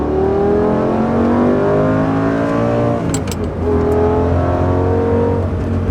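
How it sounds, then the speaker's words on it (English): A 2006 Lamborghini Gallardo with the six-speed manual accelerates hard, its engine note climbing steadily, dipping briefly at a gear change, then rising again, loud and close with no talk. "We're gonna get little acceleration here."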